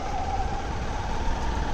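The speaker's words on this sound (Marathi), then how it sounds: "ट्रॅफिक लागले, ट्रॅफिक." Road traffic near a rural village by the caves: a steady loud rumble of vehicles with a sustained tonal horn or siren-like note running through, no speech.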